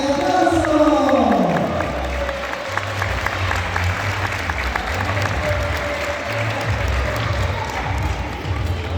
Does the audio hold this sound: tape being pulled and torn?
no